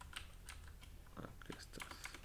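Irregular keystrokes on a computer keyboard as a file path is typed during a Tspice digital circuit simulation, with soft, quiet clicks and taps spread across a faint background hum.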